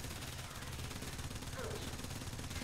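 Rapid, steady automatic fire from Afuris Prime guns in Warframe, a fast even rattle of shots heard faintly and continuously.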